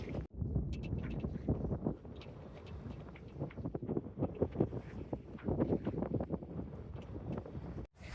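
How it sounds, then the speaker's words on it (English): Strong wind of about 22 knots buffeting a sailboat, a continuous loud roaring rush with gusty fluctuations and microphone wind buffeting, briefly cutting out near the start and end. "The wind has settled at about 22 knots."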